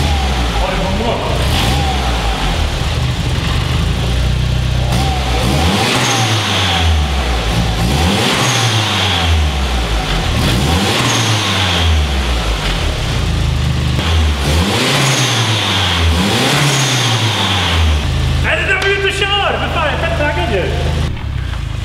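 Turbocharged Volvo 945 with a Biltema tuning turbo kit revs repeatedly in loud, close surges, each climb and fall of the engine rhythmic, a turbo whistle rising near the end, with people talking over it.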